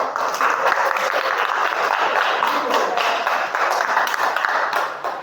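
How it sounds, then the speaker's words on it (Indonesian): A classroom of students claps together at the end of a lesson, a steady, moderately loud patter of many hands that fades slightly toward the close. "Oke, tepuk tangan buat kita semua."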